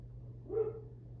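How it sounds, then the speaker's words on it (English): A single dog bark sounds briefly and faintly in a quiet room, over a low steady hum. "my dog is barking."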